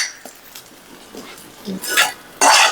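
Chow chow kootu with green chilli gets its tempering poured in from a small pan: a scrape and clink of metal cookware, then a brief sizzle that swells loudly near the end.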